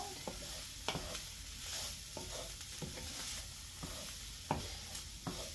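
Garlic and Italian seasoning are stirred in oil in a pan, making a continuous sizzle broken by several sharp scrapes and taps of the utensil against the pan, heard close with no voices.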